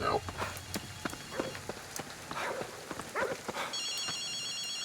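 A telephone ringing in the video game Ghostwire: Tokyo, an electronic warbling ring rising near the end over patter of rain and scattered sharp in-game sounds.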